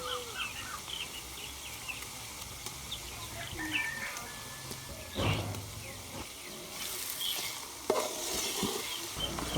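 Tomatoes tipped into a sizzling pan for matar pulao in a village kitchen, giving a soft hiss with a few stirring scrapes and a burst near the end, while birds chirp faintly in the background.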